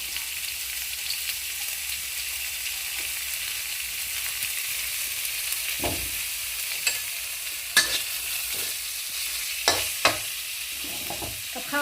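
Fermented pork sizzles steadily in a hot pan, a constant crackling hiss punctuated by occasional louder pops and clinks of stirring.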